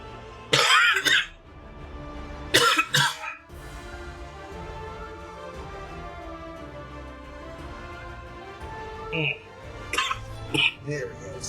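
Several loud bursts of coughing and throat clearing close to the microphone, two heavy fits early and a few shorter ones later, with a low game soundtrack humming quietly underneath.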